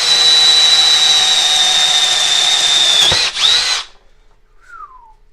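A Milwaukee M12 FUEL hammer drill runs in drive mode at speed 1, giving a loud, steady high-pitched whine while drilling for about three seconds, then a brief dip and surge before it stops, leaving a short faint squeak.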